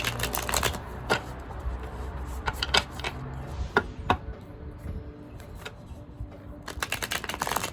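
Tarot cards are shuffled by hand in a quiet room, giving a faint, irregular run of soft riffles and papery clicks that continues throughout, with no one speaking.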